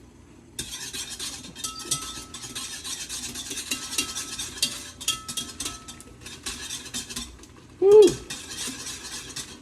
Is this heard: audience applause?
no